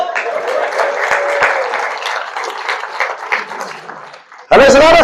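A church congregation claps its hands in steady applause for several seconds before it fades, and then a loud voice cuts in.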